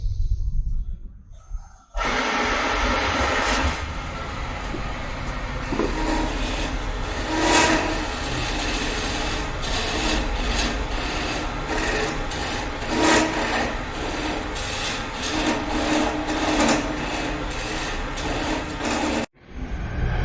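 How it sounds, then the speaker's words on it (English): Wood turning machine in a workshop shaping a workpiece, with a steady motor drone and repeated scraping bursts from the cutting, starting abruptly after a quiet opening and stopping near the end. "Now let's see the demonstration of the wood turning machine."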